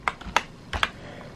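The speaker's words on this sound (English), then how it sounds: "now I'm just typing the" A handful of sharp keystrokes on a computer keyboard, arriving in two quick pairs separated by short pauses, close and fairly quiet with no one speaking.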